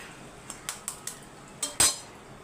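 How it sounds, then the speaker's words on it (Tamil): Eggs being cracked one at a time into a pan for a Tamil egg curry: a run of short, sharp taps and clicks, about six in quick succession, close and fairly soft, the last one louder. "ஒரு ஒரு முட்டையாக நம்ம உடச்சி ஊற்றிக்கலாம்"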